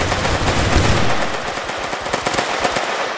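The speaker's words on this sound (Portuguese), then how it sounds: "Trocação de tiro rápido aqui, velho." Rapid bursts of automatic gunfire in GTA roleplay crackle in quick succession, loud and close, with sharp repeated shots toward the end.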